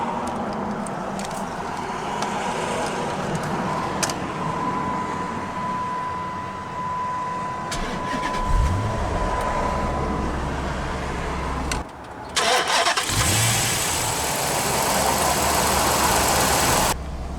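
A 2009 Dodge Challenger SRT8 with a six-speed manual and 6.1-liter Hemi V8 cranks and fires up, then settles into a loud, steady idle with a brief surge partway through. No one speaks.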